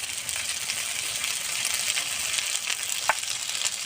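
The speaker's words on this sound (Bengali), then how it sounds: "সুন্দর করে কষিয়ে নেব সুন্দর করে কষানো হয়ে গেছে" Fish curry with fried potato, salt and turmeric sizzles steadily in a pan, a close, even hiss with one faint clink near the end and no talking.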